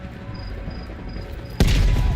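Gunfire erupts in the Call of Duty Black Ops Cold War video game: a sudden loud burst of shots and booming blasts, preceded by quieter ambient rumble, with no talking.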